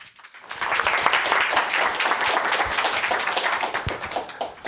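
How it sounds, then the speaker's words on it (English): An audience at a methods workshop gives a speaker a round of applause, rising quickly into dense, close clapping that holds steady and begins to thin toward the end. "So please give him a big round of applause."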